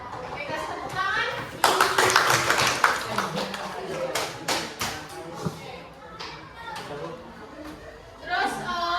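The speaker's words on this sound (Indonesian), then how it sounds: "Oke, kasih tepuk tangan." Classroom applause from a group of students, a burst of clapping that swells and then tapers into scattered claps, with children chattering around it.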